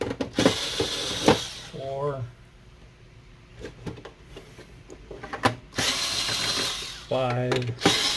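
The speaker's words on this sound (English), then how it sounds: "first we're going to remove screws on the bottom of the top cover of the top unit here of this printer" A power screwdriver whirs in short bursts while removing screws from the top cover of a Canon Pixma MX490 printer, with someone speaking between the bursts.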